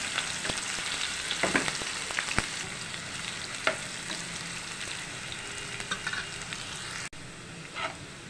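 Chopped medium onion frying in oil for a green beans and potato sabji, a dense, even sizzle at moderate level with occasional stirring scrapes and taps.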